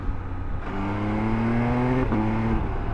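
An MV Agusta Enduro Veloce adventure motorcycle engine revs hard and climbs in pitch, shifts briefly, then pulls up again, loud and close with a steady roaring tone throughout.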